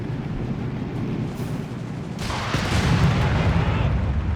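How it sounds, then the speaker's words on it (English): Mortar explosions in Company of Heroes 3, a World War II strategy game: a sustained low rumble of blasts that swells louder after about two seconds, with a burst of wideband debris noise, overlaid with continuous commentary from a caster. "Looks like the mortar attack finally made its end there"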